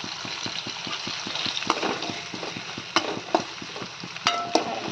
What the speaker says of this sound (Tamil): பாருங்கள் ஃப்ரெண்ட்ஸ், வெங்காயம் நல்லா வதங்கட்டும்.